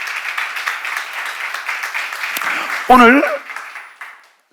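A crowd applauds steadily under a voice at a church seminar. A short spoken word breaks in near the end, and the clapping then fades out.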